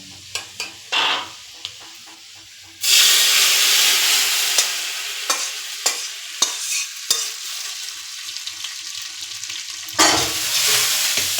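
Fried spice tempering poured into a pot of boiled gota sedho, a loud burst of sizzling and hissing that starts abruptly and fades, preceded by a few clinks of utensils, with a second surge of sizzle near the end.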